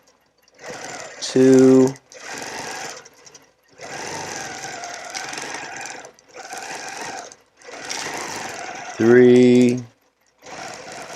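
Domestic sewing machine stitching in the ditch along quilt seams, steady whirring runs in several bursts with short pauses, close up, while a person counts aloud between them.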